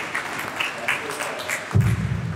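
At the official opening of a regional cooperative development forum in Arusha, a crowd claps in a moderate, steady patter, joined near the end by a voice speaking over it.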